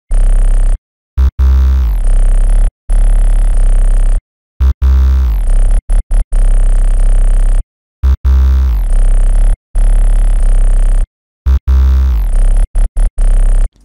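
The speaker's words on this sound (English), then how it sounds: "And so the 808 overall sounds like this." An 808 bass pattern programmed in FL Studio booms loud and deep with pitch slides and octave jumps, its sustained notes broken by short rhythmic gaps across a groove of about fourteen seconds.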